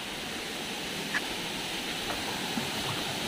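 Water current flows at Iringan Falls in Pagbilao, Quezon, as a steady, even rush with a faint occasional splash.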